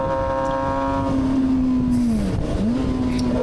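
A Kawasaki ZX-6R motorcycle races on the Road Atlanta track during a track day. A loud, steady engine drone holds close by, then dips briefly and climbs again, as on a downshift.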